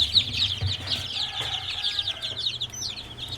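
Young chicks peep in a rapid, continuous high-pitched chatter, close and fairly loud, over a steady low hum such as a brooder or incubator fan, with no talking.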